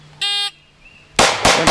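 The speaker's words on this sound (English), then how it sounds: "And this will be 3 shots." Shots fired at a shield on a range: a short electronic timer beep, a brief pause, then a rapid burst of loud, sharp gunshots close together.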